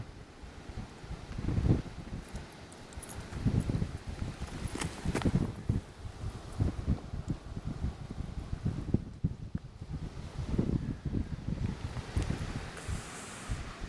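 Gusty wind buffeting the microphone in uneven low rumbling bursts, rising and falling over a faint outdoor background, with no talking.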